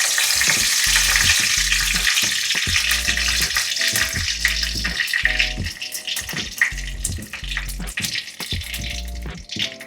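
Panch phoron spices and a bay leaf sizzle in hot oil in a pan: a steady crackling fry with occasional stirring scrapes, heard close up with no talking.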